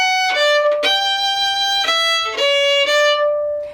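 A solo fiddle plays a slow arpeggio starting on A as a Cape Breton reel exercise, with clear, loud sustained bowed notes moving from one to the next, alone without talk.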